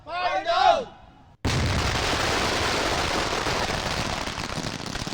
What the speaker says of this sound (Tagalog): Ipinakita ng Explosives Ordnance Division o EOD ng PRO-4A kung gaano kalakas ang ilan sa mga nakumpiskang iligal na paputok.